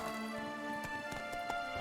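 Hooves of Roach, a horse in The Witcher 3: Blood and Wine, clip-clop in a steady rhythm at moderate distance beneath a sustained musical drone, quiet and unbroken.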